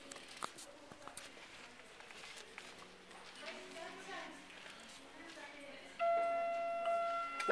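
Arrival bell of an old Otis Europa 2000 lift in a bookshop at Birmingham New Street, a clear steady electronic chime tone entering near the end and holding, heard after quieter lift hum and background noise.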